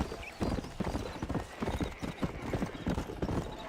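Horse hooves clip-clopping in Red Dead Redemption, a steady brisk rhythm of close, distinct hoof strikes on hard ground, with faint game ambience behind.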